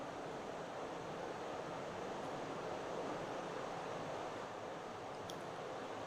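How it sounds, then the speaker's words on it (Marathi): Hot water is poured into a pan of whole masoor lentils, heard as a soft, steady, broad rush that holds evenly throughout at low level, with no voices. "मी आता एक साईडला पाणी गरम करायला ठेवलं होतं, ते पाणी आता मी ओतून घेते."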